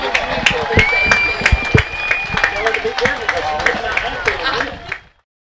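A crowd applauds the Boston 2022-2023 seniors at a school sports event, bursts of clapping and scattered cheers loud and close for several seconds before cutting off abruptly.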